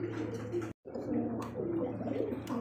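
Two racer pigeons of different colours, a male and a female, cooing in low gurgling rolls close by, broken by a brief silent gap, then resuming steadily.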